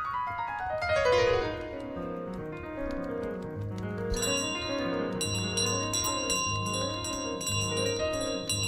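A small hand bell carried by a goose in Untitled Goose Game rings and jingles continuously, with a loud clang near the start and then a steady ringing mixed with faster tinkling from the middle to the end.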